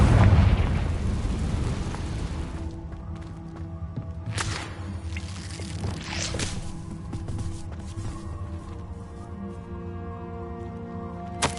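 A Confringo blasting spell goes off in Hogwarts Legacy: a loud, deep boom up front that rumbles and fades, followed by a couple of sharp magical bursts over a low ambient hum, with no one speaking.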